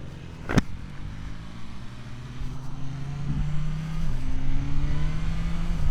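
BMW S1000R hypernaked motorcycle accelerating, a sharp transient at the start followed by a steady engine drone whose pitch climbs and shifts as the bike pulls, moderately loud with no talk.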